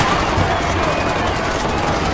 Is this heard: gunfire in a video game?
yes